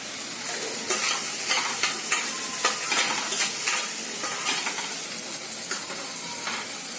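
Garlic, ginger, cloves and cardamom roasting in a hot pan for palak paneer, loud continuous sizzle with rhythmic stirring scrapes throughout, no talking.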